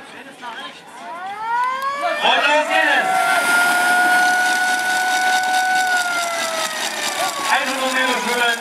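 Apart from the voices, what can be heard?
siren signalling the start of a children's triathlon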